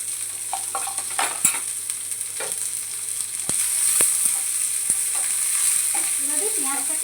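Onions fry in hot oil while being stirred constantly for a poppy seed dish, a steady close sizzle broken by several sharp spatula knocks against the pan.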